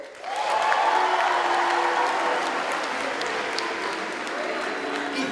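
An audience at a Mr. Harriton 2018 pageant applauds the contestants, with a dense, sustained round of clapping from a large crowd filling the hall.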